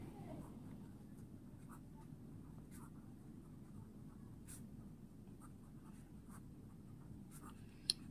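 A pen writes numbers on paper during a class six maths lesson, making faint, soft scratching strokes in short, irregular bursts over a low background hum.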